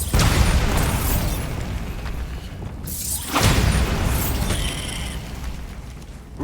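A Bombarda spell detonates in Hogwarts Legacy, giving loud booming blasts with a bursting crackle, one near the start and another swelling about midway, over a steady rumbling game soundscape with no talk.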